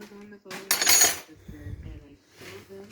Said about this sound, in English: So we put the drain plug back in, get our wrench, give it a tighten